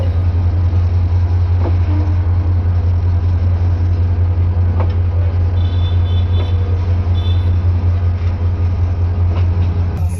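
The Mohanganj Express pulls out of Thakurkona railway station, heard from inside with a loud, steady low rumble and hum that never lets up, while faint rattles and clanks surface now and then.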